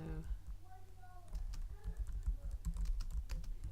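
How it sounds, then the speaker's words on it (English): Rapid clicking keystrokes on a computer keyboard, close and fairly quiet, in an irregular typing rhythm with a faint voice briefly audible at the start. "I'm going to type this in"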